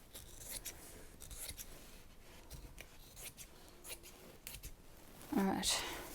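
Quiet, crisp snips and sliding rasps come from sharp scissors cutting cheap lining fabric, repeating irregularly before a brief louder sound near the end.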